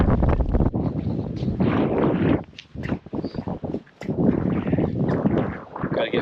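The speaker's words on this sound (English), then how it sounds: "The wind's still blowing, 37 degrees." Strong wind blows across a beach on a cold day and buffets the microphone in loud, roaring gusts, with a short lull partway through.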